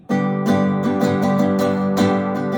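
Strummed guitar chords, G then D, ring out in a steady, repeating rhythmic pattern, each chord struck twice, clear and close with no voices.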